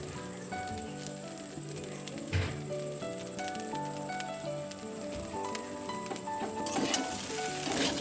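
Pasta fries in a pan with a constant low sizzle and light crackle, steady and close, while music plays in the background.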